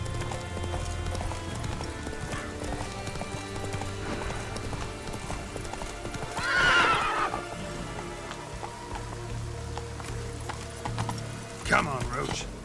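Roach, the horse in The Witcher 3, gallops with rhythmic hoofbeats over falling rain, giving a clear neigh midway and another whinny near the end; a voice is briefly heard.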